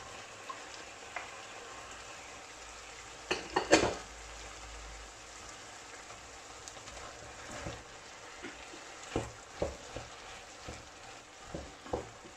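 Red and green peppers with a large onion sauté in a pan, a faint steady sizzle broken by scattered scraping and clinking stirs of a utensil against the pan.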